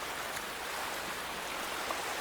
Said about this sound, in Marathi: किती जोरा जोराच्या लाटा येत आहेत